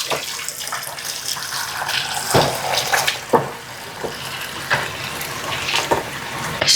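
Spiced soto beef broth is poured into a bowl with a steady watery splashing and gurgle, punctuated by a few louder sloshes, close to the microphone.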